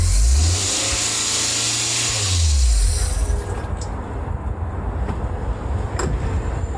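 A race car engine revs up to 3,500 RPM with a rising then falling drone, holds briefly, and cuts out abruptly when the kill switch is hit, leaving faint residual noise and small clicks.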